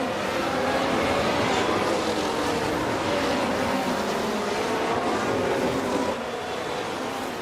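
F1 race car engines from the racing game F1 Manager 2024 at the Hungary Grand Prix, a loud, steady, droning engine whine that holds for the whole stretch with faint background commentary.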